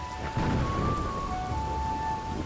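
Steady rain falls in a short animated scene, a soft, even patter with a low rumbling undertone, heard alone for a couple of seconds.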